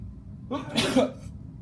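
A single loud sneeze, sharp and close, preceded by a quick inhale, with quiet room noise around it.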